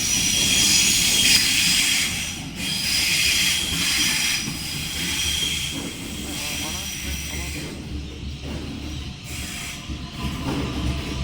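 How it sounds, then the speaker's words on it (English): The A69 train passes through Epping station with a loud, sustained rumble and whine that slowly fades, and a voice speaks over the noise. "A69! What a perfect train to end the video on."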